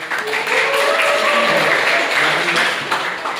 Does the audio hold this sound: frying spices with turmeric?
no